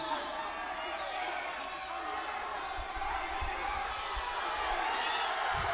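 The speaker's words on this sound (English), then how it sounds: "Listen to the crowd. That's exactly what they want." A large indoor crowd at a professional wrestling event roars and cheers steadily, with scattered whoops and a few thuds beneath the din.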